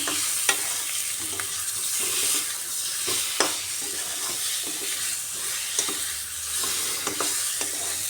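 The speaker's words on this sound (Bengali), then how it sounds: "আলু ডিম দিয়েও একটু মশলার সাথে ভালোভাবে কষিয়ে নিচ্ছি" Potatoes and boiled eggs frying with spices in a pan, a continuous loud sizzle with irregular clinks and scrapes of a stirring utensil up close, no voices.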